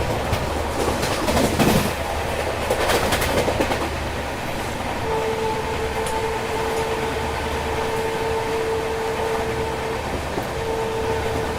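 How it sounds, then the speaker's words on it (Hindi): Gatiman Express high-speed train running on rails near the Uttar Pradesh–Rajasthan border at speed, heard as a steady loud rumble with rattling in the first few seconds and a sustained whine later on. "ये गतिमान एक्सप्रेस है।"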